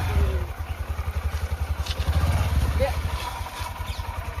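A motorcycle engine runs with a steady, rhythmic low throb, loud and close, while people talk over it.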